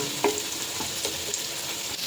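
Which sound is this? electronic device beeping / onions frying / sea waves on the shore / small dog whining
onions frying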